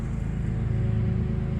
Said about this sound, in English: Now Ryan's just buzzing over it real quick with the Skag.